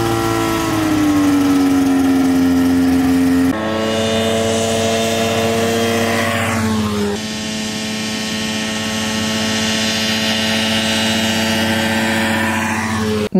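A Rotax 582 two-stroke ultralight aircraft engine runs steadily and loud throughout, a droning, tonal buzz with strong harmonics that shifts pitch a couple of times as the throttle changes.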